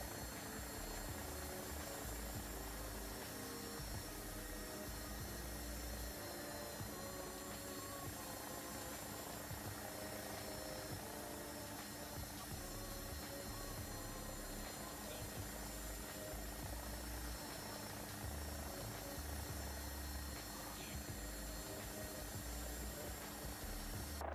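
A helicopter hover-taxis low in ground effect in a flight simulator game, its rotor and turbine drone steady and continuous throughout, with occasional faint speech.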